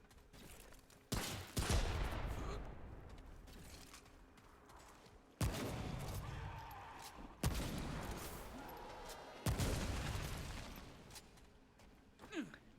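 Sniper rifle shots in the video game Remnant, four or five loud, widely spaced cracks, each trailing off in a long echoing decay against a quiet background.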